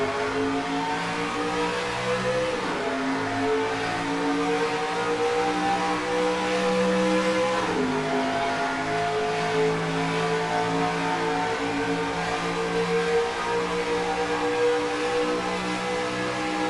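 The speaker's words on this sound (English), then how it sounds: "42 trucks on the front stretch. Green flag flies for the first playoff race of the NFRN Truck Series." A field of NASCAR-style race trucks at a green flag start at Toronto Lakeshore in NASCAR Racing 2003, engines revving and climbing through gears in a loud, continuous, layered roar that dips briefly and swells again.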